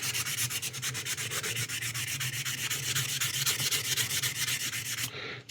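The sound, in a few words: sanding a resin model kit part with sandpaper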